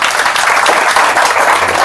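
A short burst of crowd applause, loud and continuous dense clapping with no voices over it, lasting under two seconds.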